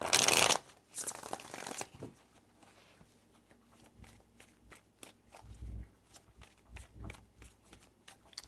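Tarot deck being shuffled, a couple of bursts of riffling at the start followed by soft repeated taps and slides of cards, close and quiet.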